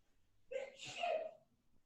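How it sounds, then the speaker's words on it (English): A mother sneezes once in the next room, a single muffled, moderately loud sneeze with a sharp intake, heard alone against quiet room tone. "that was my mother sneezing in the next room"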